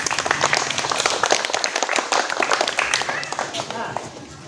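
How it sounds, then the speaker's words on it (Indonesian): A class of fifth-grade students claps together during a pencak silat kicking lesson, a dense burst of brisk hand claps lasting several seconds, with a teacher talking over it. "Tepuk tangan buat kita semua."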